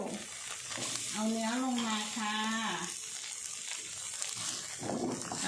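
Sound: stir-frying coconut milk in a pan for Thai beef curry

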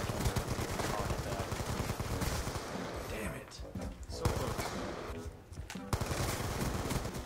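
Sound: gunfire in the video game Black Ops 2

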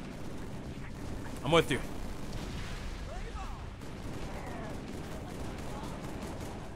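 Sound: gunfire in the video game Halo 3

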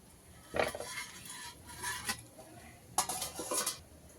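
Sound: lid placed on and loosened on a frying pan

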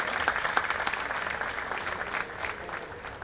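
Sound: audience applause at concert

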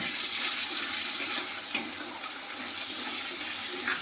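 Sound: ginger, garlic, green chilli and cumin paste added to pan

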